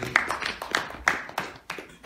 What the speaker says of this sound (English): Light applause.